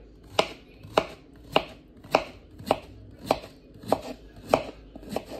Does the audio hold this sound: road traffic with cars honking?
no